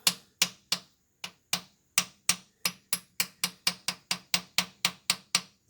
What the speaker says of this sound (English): just get a regular small hammer, put it in the hole, sit there and tap till you get it to start